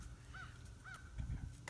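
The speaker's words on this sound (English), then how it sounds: "He heard that crow, didn't he?" A crow caws twice, faint and distant, over a low background rumble at a spot where four-week-old British Labrador puppies are kept.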